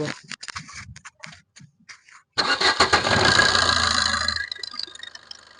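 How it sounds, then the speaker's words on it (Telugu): A 2015 Maruti Swift Dzire VDI diesel car cranks briefly on a single self-start, catches and settles into a loud, close diesel idle, after a few quiet clicks and knocks. "సింగిల్ సెల్ఫ్ అయితే బండి స్టార్ట్ అవుతుందండి."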